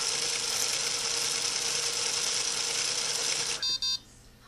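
Roomba Disco 4210 robot vacuum wheel motors running during the built-in self-test, a steady high whine lasting several seconds, then cutting off into a pair of short electronic beeps.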